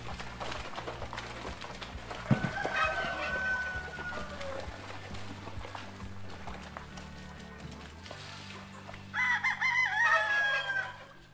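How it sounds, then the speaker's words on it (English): Chickens and a rooster on a rainy farm, with a crow ringing out early and a louder, closer burst of crowing near the end over steady background farm noise. "Get over here and feed this chicken."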